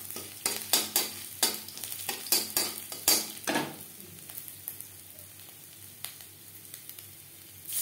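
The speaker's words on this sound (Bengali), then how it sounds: "মশলা ভাজা হয়ে গেছে।" Spices and grated ginger fry over a low flame in a pan for a vegetarian dal shukto, with a run of sharp spatula scrapes and clinks over a quiet sizzle, then sparser taps as the stirring slows.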